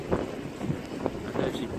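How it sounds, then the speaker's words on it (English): Wind gusting over a sailboat moored near Deal Island, a steady buffeting rush with pulses of louder gusts against the microphone, and someone speaking over it. "got plenty of gusts coming through"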